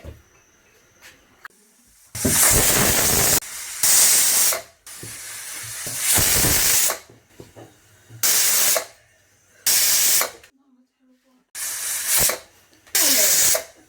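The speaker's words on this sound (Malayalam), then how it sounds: "കുക്കറിന് ലിഡ് അടച്ച് നമ്മൾ ഇത് വേവിക്കാൻ വയ്ക്കുന്നു. ഒരു 5 വിസിൽ വരുന്നവരെ നമ്മൾക്ക് വെയിറ്റ് ചെയ്യാം" Loud bursts of hissing steam from a pressure cooker whistling while cooking beef, roughly eight blasts, with quiet gaps between. No speech.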